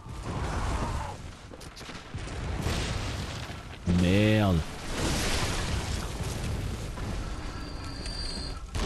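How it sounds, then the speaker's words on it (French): Heavy booming cannon blasts in the video game Bloodborne, loud rumbling explosions recurring over several seconds amid chaotic noise, with someone speaking briefly in the middle. "je pensais pas que ça allait faire une explosion aussi incroyable"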